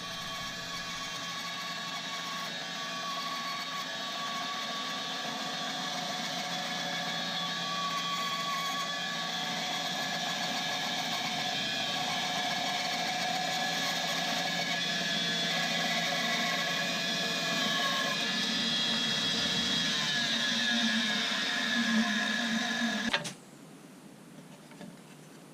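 A bandsaw cuts slabs from a small wood branch in a steady, loud, continuous whine and rumble that goes on for over twenty seconds, then stops abruptly, leaving only quiet room tone.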